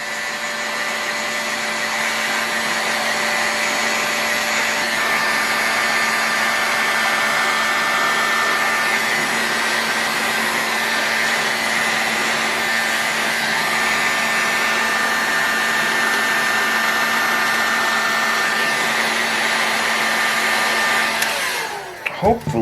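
Heat gun blowing a loud, steady whooshing roar onto an engine crankcase to warm it for bearing installation, running unbroken for about twenty seconds before a few brief knocks and clicks at the end.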